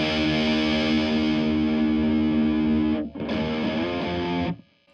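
Electric guitar played through a Friedman Brown Eye BE-OD overdrive pedal with high gain and no noise gate, giving a loud, thick sustained distorted chord that cuts out briefly, returns, then stops into noisy hiss.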